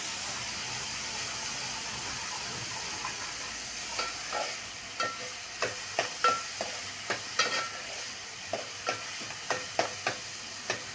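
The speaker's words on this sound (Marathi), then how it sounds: "मी 2 मोठ्या साईजचे कांदे घेतले होते आणि 1 टोमॅटो। छान परतवून घेऊया।" Finely chopped onion and tomato sauté in a pan for a mutton curry, a soft steady sizzle broken by a regular series of sharp spatula scrapes and taps, close but fairly quiet.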